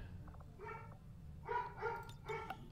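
A dog barking indoors, a short run of four or five quick yips and barks, moderately quiet and heard alone over a low hum.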